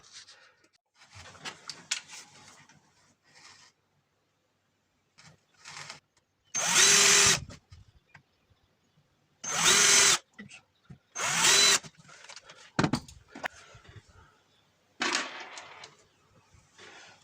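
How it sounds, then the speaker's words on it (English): Several short bursts of a power drill whirring loudly as it pre-drills holes for a laser engraver enclosure, each a second or so long, separated by quieter handling noises and clatter. "pre-drill the holes"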